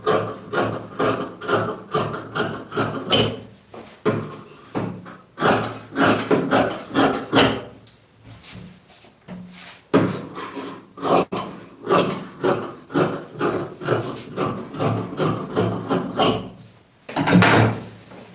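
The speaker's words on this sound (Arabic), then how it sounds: "غادي نقطع بالمقص" Scissors cutting through fabric for a Moroccan djellaba, a long run of rhythmic snips and crunching blade strokes, close and fairly loud, with a few short pauses between bursts.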